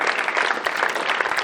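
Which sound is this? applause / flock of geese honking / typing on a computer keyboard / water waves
applause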